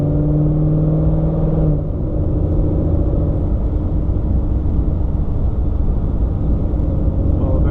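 A supercharged 2015 Ford Mustang engine roars loudly and steadily as it pulls hard through third gear, close and constant with a deep rumble.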